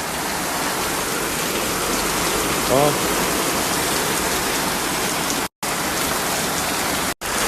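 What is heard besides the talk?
heavy rain falling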